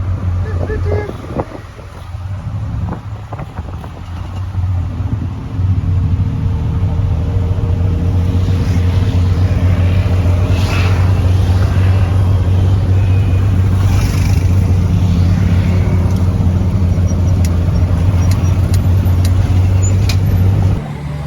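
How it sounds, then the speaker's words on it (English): Tuk-tuk riding through Bangkok traffic toward Chinatown, its small engine droning steadily and loudly throughout, with wind buffeting the microphone and occasional voices over the road noise. "we're on its way to Chinatown. In a tuk-tuk."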